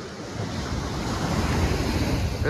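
Steady roar of surf washing onto Khavne beach in Konkan, loud and continuous, with wind buffeting the microphone.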